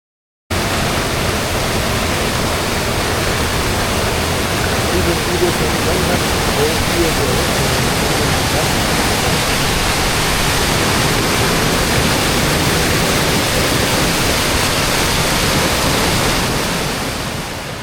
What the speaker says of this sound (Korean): 선일대에서 아래로 내려다 보이는 저 폭포는 연산폭포와 관음폭포이고요.